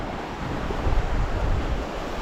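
Sea waves wash continuously at Cape Kolka where the Baltic Sea meets the Gulf of Riga, a dense steady surf roar mixed with wind buffeting the microphone, with no talking.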